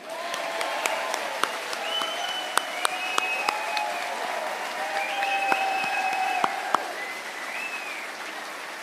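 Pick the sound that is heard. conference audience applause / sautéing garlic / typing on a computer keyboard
conference audience applause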